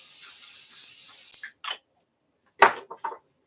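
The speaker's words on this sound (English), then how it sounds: "Let's get some coconut oil spray." Coconut oil cooking spray released in one long steady hiss lasting about a second and a half, followed by a few short handling clicks and knocks in a kitchen.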